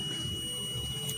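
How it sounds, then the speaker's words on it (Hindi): Continuity buzzer of a multimeter testing pins on an audio-video socket for a CRT TV kit, a steady electronic tone sounding continuously and fairly loud throughout with no speech. "मैं आपको बजर की साउंड सुनाता हूँ"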